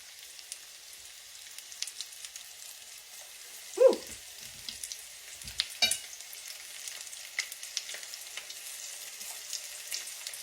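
Food frying in grease in a home kitchen during supper cooking, a faint, steady crackle with a few soft clunks from the pan, and no talking.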